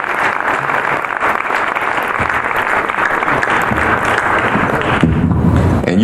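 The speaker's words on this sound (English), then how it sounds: "Let's give Mrs. King and Yolanda Renee King a round of applause." Loud, sustained applause from a large audience at a Martin Luther King Day gathering, dense clapping filling the whole stretch with a slight swell near the end, crowd noise mixed in.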